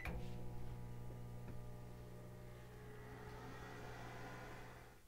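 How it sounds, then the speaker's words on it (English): A microwave oven running on a Bluetti portable power station hums steadily with a faint whirring drone, close and quiet, with a few soft clicks near the start and no voices. "that's how I am going to run the microwave"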